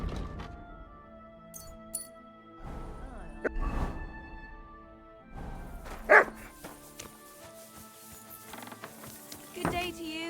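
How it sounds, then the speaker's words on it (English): A dog in Kingdom Come: Deliverance II barks in a few scattered bursts amid medieval village ambience, with clinks and creaks and background music. "Good doggy."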